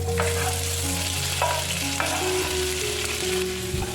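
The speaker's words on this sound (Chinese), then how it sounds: "用中火将姜和蒜炒香后，就可加入鸡肉" Chicken stir-frying in a pan with ginger and garlic over medium heat in sesame oil, a steady close sizzle with a few scraping stirs, no voices.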